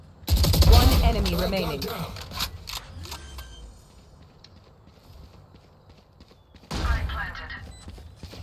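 Gunfire in the shooter video game Valorant: a loud burst of shots near the start, then a quieter stretch and another sharp volley near the end.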